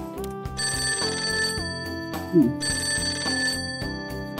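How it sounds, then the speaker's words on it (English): A phone in the game Persona 5: Tactica rings in a melodic ringtone pattern repeating twice over steady music, loud and clear, with a brief vocal exclamation in the middle. "Phone call."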